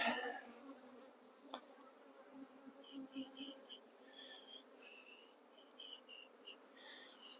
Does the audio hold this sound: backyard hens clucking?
no